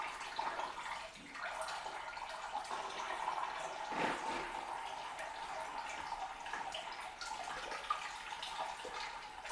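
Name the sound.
water draining from cooling system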